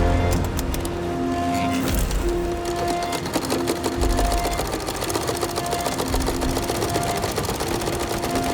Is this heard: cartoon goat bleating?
no